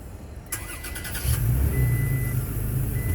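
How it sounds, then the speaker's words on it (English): Toyota Tacoma TRD Pro started by push button: a click and short starter whir, then the engine catches and settles into a steady low idle rumble, close and without talking. "I'm going to go ahead and start us here. Push button start."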